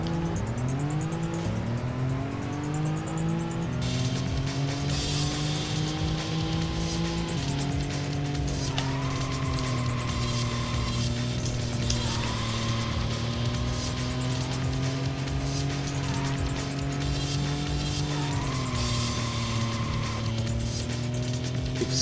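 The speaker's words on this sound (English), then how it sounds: "Sick drifts." Race car in the video game Racing Lagoon drifting through corners, a steady loud engine drone rising and falling with repeated tire squeals layered on top, continuous with no voices.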